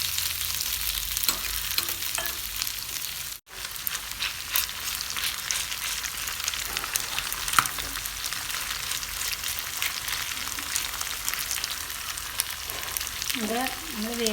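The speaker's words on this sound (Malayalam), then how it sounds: "ഇനി നമുക്കിത് ഫ്രൈ ചെയ്തെടുക്കാം." Boiled beef pieces for beef chilli sizzle and fry in a hot pan, a steady crackling hiss with occasional stirring scrapes and clinks throughout.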